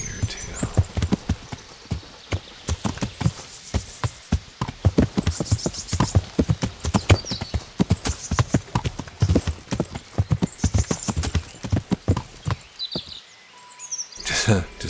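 Horse hooves clip-clop in a steady, brisk rhythm as a horse is ridden in the medieval video game Kingdom Come: Deliverance. The hoofbeats are close and loud, with faint ambient sounds behind them.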